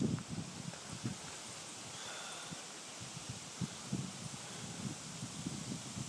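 Cold outdoor wind blows steadily as broadband rushing noise with gusty buffeting against the microphone, faint rustling mixed in, no speech.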